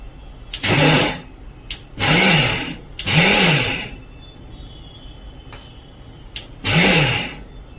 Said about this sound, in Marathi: हा शिल्लक राहिलेला भात पण आपण मिक्सरमध्ये मध्ये थोडासा फिरून घ्यायचा आहे